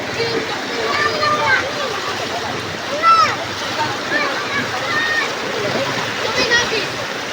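Strong rushing water splashes and churns continuously near an outdoor waterway, a loud steady wash with brief bursts, with people talking over it.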